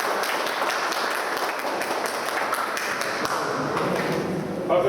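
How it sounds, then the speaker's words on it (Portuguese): Audience at a political campaign event applauding a pre-candidate for state deputy, continuous loud clapping with scattered sharp taps throughout. "e uma salva de palmas aí de Carmona"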